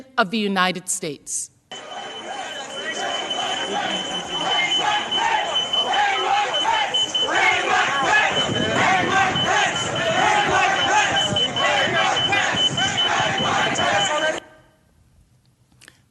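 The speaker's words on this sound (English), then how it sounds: "You can hear the security alarm from the door in the background" A door security alarm wails steadily inside the US Capitol while a mob chants loudly over it, a dense crowd roar filling nearly the whole stretch before cutting off; a speaking voice is heard briefly at the start.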